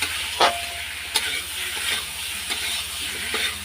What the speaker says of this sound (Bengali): শালগমটা অনেকটা পেঁপের মতনই লাগে খেতে তাই এই যে কষিয়ে নিচ্ছি